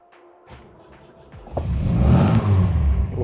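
A vintage MG car engine cranks and catches at about one and a half seconds, then settles into a loud, deep, rumbling idle with low growl.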